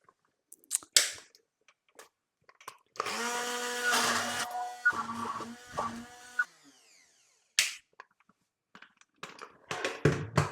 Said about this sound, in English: I'm going to give it a quick whiz with my blender